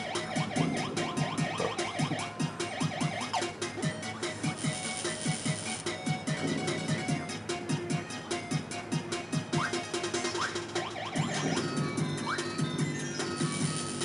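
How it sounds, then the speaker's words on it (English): Alarm in the Nintendo 64 game Kirby 64: The Crystal Shards, a loud repeating electronic wail sounding continuously amid busy game sound effects and music. "Shut off that alarm, too."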